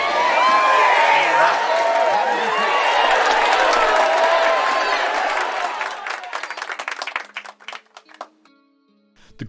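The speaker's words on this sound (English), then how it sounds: "The crowd breaks into reluctant applause" Talk show studio audience breaking into applause with some cheering, a loud dense burst of clapping and voices that thins out into scattered individual claps and fades away over the last few seconds.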